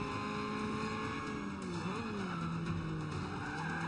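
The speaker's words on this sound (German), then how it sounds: "Ach, das Runterschalten finde ich so geil." A race car in the Forza Motorsport 5 video game revs and drops through gears, the engine note sliding down in pitch with tire squeal mixed in, a steady moderately loud drone with no talking.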